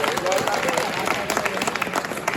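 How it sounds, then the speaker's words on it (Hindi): A crowd claps steadily at a mushaira poetry gathering in Kota, India, a dense patter of applause filling the room throughout, with some voices mixed in. "एक बार ताली बजा दीजिए अपने पार्षद के लिए"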